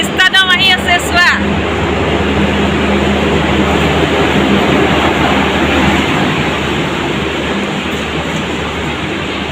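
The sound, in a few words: Vistadome train arriving at station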